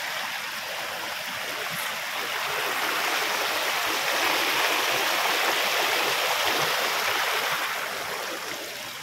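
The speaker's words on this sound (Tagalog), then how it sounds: "Umaapaw kasi yung tubig doon sa may taas doon. Kaya dito dumadaan sa palayan." Floodwater overflowing from higher ground and rushing through a flooded rice field, a steady broadband roar of flowing water that swells slightly in the middle, with no voices.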